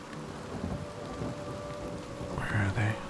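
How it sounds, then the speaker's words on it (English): Steady rain falls with soft crackling, and low rumbles of thunder swell near the end, in the video game Oblivion Remastered. "I'm so happy that it's raining."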